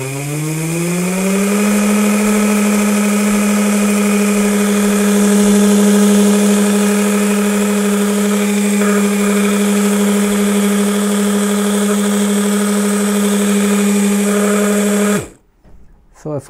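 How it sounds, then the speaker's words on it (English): A small DC motor spins at reduced voltage, a steady whine that rises briefly at the start, then holds an even hum before cutting off abruptly near the end. "I've reduced the voltage of motor, so it is not making much noise."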